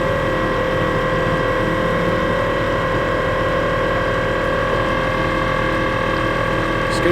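A $400 electric outboard motor pushes a small boat at speed, giving a steady, continuous whine and hum with a constant tone, alongside the wash of water beneath it, close and even throughout.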